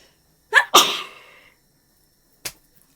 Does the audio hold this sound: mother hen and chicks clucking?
no